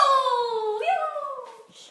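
Mojo the dog lets out a drawn-out, high whine that falls in pitch, breaks briefly and trails off, close and clear for under two seconds.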